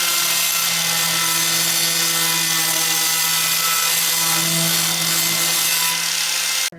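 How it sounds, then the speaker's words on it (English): Angle grinder grinding rust off a metal table down to bare metal, a steady loud whining drone with a humming tone that runs continuously for several seconds before cutting off at the end. "now I'll take the grinder and try to get the rust down to the bare metal as well"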